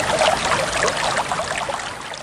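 The Kali Kromong river flows past a riverside campsite, a continuous bright trickling and babbling of water, close and steady with no voices.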